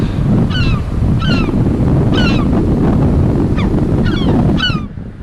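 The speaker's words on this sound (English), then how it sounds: "course all the noisy seagulls" Several seagulls calling in repeated sharp cries over a loud, constant rush of surf and wind on a beach at Anchorage Provincial Park.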